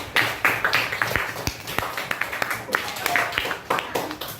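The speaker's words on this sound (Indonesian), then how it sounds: "Tepuk tangan dong buat Jelita." Children in a classroom clap their hands together in brief scattered bursts of sharp taps, close and fairly loud, mixed with a voice talking.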